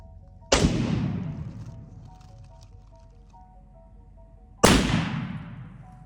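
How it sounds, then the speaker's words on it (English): Two sharp gunshots at a herd of wild boar, several seconds apart, each a sudden crack trailing off in a long fading echo over quiet background. "a short, dry gunshot rang out."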